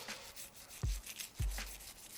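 Brisk scrubbing inside a Glock 17 Gen 4 pistol slide during cleaning, a faint, steady rubbing with a couple of soft low knocks as the slide shifts.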